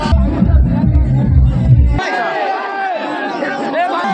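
A dense crowd packed around a show at the Lalon fair in Bishtupur: loud, close babble of many voices, with a heavy low rumble for the first two seconds before overlapping shouts and chatter take over.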